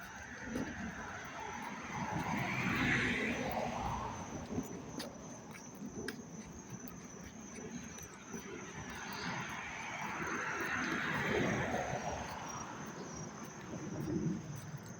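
Crickets chirp in Dobbs Ferry, New York, on a dry, warm, sunny August day, a continuous high trill that swells and fades in waves, with a low rumble of a passing aircraft or distant traffic underneath.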